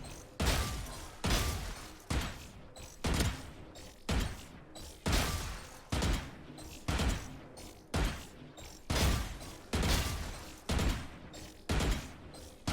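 Vandal rifle fire in Valorant comes in about a dozen sharp, evenly spaced bursts of shots, each ringing briefly before the next, with no voices.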